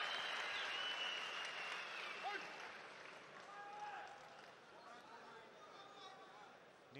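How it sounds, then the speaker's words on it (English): Crowd applause fills the arena at an MMA fight, ACB 48, as a steady wash of clapping and cheering that runs through the whole stretch and slowly eases toward the end. A few faint voices sit beneath it. "There we go, the crowd respond as well."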